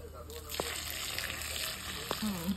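Local singhi and magur fish simmering in a pot of boiling water, a steady soft bubbling hiss with a couple of faint clinks, no one talking.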